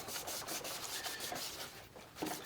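A rag rubs and wipes wood stain off a stamped wooden surface at close range. The strokes are soft, steady and repeated, with a scratchy, sanding-like texture and no voices.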